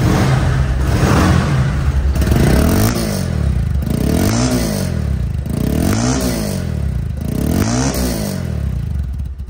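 A Bajaj Pulsar double disc ABS motorcycle engine running up close, loud and steady, with four repeated rev swells rising and falling at a regular rhythm, no talking.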